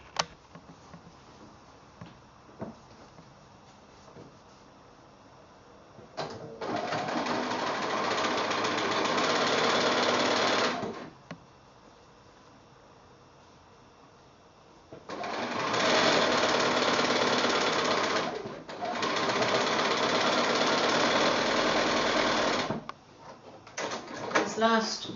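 A sewing machine joins quilt block seams in loud, steady runs of several seconds each, three bursts separated by quiet pauses, with soft handling noises and a voice speaking between them.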